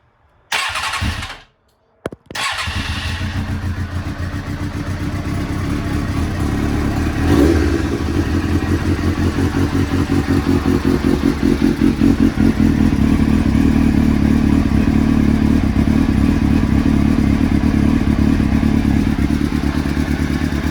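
A 1998 Suzuki GSX-R 600 SRAD under restoration cranks over after a short pause, catches and settles into a steady, close idle with a rapid mechanical clatter and a slight rise in pitch partway through.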